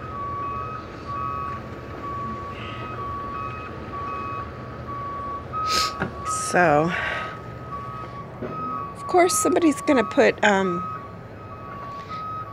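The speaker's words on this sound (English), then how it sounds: "there's construction going on. So now we're gonna hear that beep, beep, beep for a few minutes." Steady, evenly spaced reversing beeps from a construction vehicle at a hotel repeat throughout, while a person talks nearby over a low background rumble.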